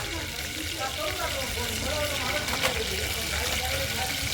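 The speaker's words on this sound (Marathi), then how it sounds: "बघा, तेलात जिरे टाकलेले आहेत." Cumin seeds sizzle in hot oil for khichdi at a roadside tea-house kitchen, a steady close hiss that runs throughout with people talking over it.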